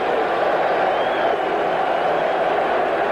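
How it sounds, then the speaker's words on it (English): A dense stadium crowd roaring and cheering at a 1983 National League playoff baseball game between the Phillies and Dodgers, a loud, sustained wash of voices filling the space. "this crowd is going wild now as Mike Marshall gets in"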